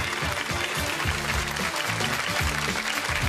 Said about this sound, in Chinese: 让我们以热烈的掌声来欢迎我们的3位评审老师